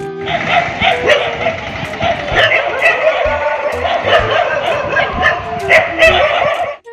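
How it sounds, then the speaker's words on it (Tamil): Several dogs bark, yip and whimper at another dog dressed in a shirt, a continuous loud chorus of overlapping yaps that runs throughout. "அந்த நாயை குலைத்து விரட்டத் தொடங்கியது"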